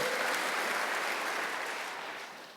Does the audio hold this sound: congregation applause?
yes